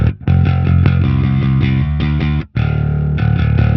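Bass guitar played through the STL Tones Graviton amp plugin with a compressor engaged: a loud, distorted, tightly compressed riff of repeated picked notes, with one brief gap near the middle before the line resumes, no voices.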